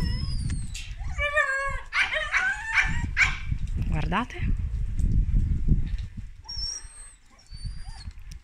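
A setter in a dog kennel whines and yips in high, wavering cries with a few short barks mixed in, close and fairly loud, while someone speaks Italian over and between the sounds.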